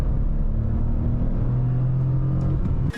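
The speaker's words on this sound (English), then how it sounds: "there are no people willing to sit in a car listening only to a murmur of 1-liter TCE engine" Low, steady murmur of a cheap car's 1-liter TCE engine, a continuous droning rumble with a faint rising whir, heard close and alone with no talking, ending in a brief dip.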